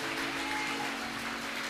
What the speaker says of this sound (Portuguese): Você pode aplaudir ao Senhor pela vida dos nossos irmãos aqui.